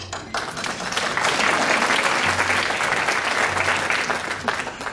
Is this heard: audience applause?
yes